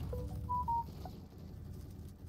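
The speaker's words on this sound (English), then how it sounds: "Was that my phone? I have never heard my phone make that sound." A short electronic phone alert plays a few quick tonal beeps, a brief rising chime pattern heard faintly over low background hum before fading out.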